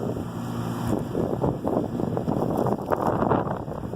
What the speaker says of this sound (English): You can see the winds are blowing.